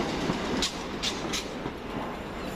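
Thameslink train bound for Brighton at East Croydon station, a steady low rumble of rolling stock with a few faint high clicks over the wheels, moderately distant and continuous.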